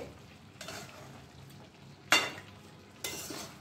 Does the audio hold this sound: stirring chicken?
yes